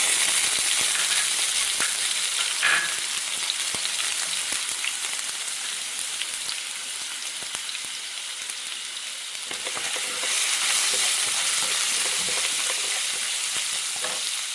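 Ginger sizzles steadily in hot oil in a pan, a dense, continuous frying hiss close by with occasional stirring scrapes and small clinks, no voices.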